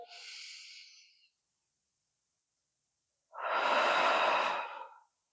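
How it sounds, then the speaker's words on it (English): Breathing during a core exercise for post-C-section recovery: a soft breathy inhale near, then a pause, then a longer, louder exhale, with no talking. "Inhale and exhale."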